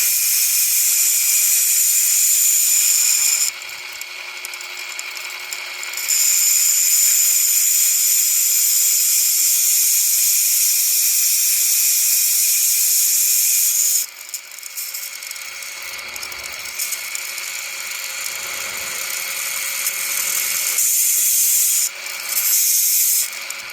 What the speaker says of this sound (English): put some little tiny bit of pressure on it so that the spurs spin and dig in just a little bit to get all the gunk out of the pad